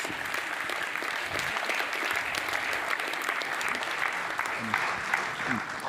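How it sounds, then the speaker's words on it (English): Steady applause from an audience at a hackathon pitch event, many hands clapping evenly throughout at moderate loudness, with faint voices mixed in. "Oh, applause."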